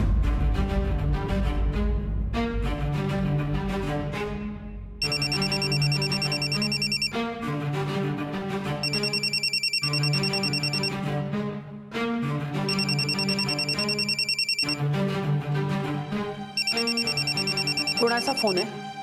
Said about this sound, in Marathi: कोणाचा फोन आहे?